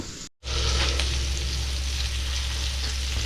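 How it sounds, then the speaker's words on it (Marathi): Mutton pieces frying in a pan, a loud dense close sizzle running steadily after a brief dropout at the start, no voices. "इथे बघा आपले मटणाचे पीस जे आपले फ्राय व्हायचे आहेत ते दोन्ही साईडने सर्वी साईडने आम्ही फ्राय करतो व्यवस्थित"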